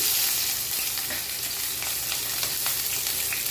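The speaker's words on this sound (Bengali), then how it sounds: "দিয়ে দিচ্ছি সর্ষের তেল, ফোড়নে দিয়ে দিচ্ছি পেঁয়াজ কুচি" Chopped onion frying in mustard oil as a tempering, a steady close hiss of sizzling with faint crackles and no voices.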